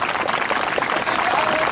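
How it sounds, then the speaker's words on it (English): Brief burst of dense crowd clapping from an outdoor street-dance audience, steady and loud throughout. "Clap, clap, clap."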